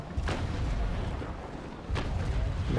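Ship cannons fire a broadside in the naval battle game Naval Action: two heavy booms about a second and a half apart, each with a sharp crack and a low rumble that lingers between shots.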